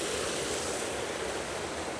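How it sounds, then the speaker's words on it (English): A brook flows by a trail near tufa dams in winter, a steady broadband rush of water that stays even and moderately close, with no voices. "down here where the brook continues is pretty cool as well"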